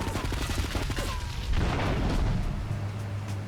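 Gunshots in the video game GTA Definitive Edition, a rapid burst of booming shots at the start followed by a dense rumbling blast, with faint speech beneath.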